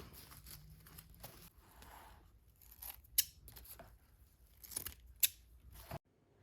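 Scissors snip through ribbon on a DIY Easter topiary craft, giving a few quiet, sharp cuts spaced apart amid soft handling rustles in an otherwise hushed room.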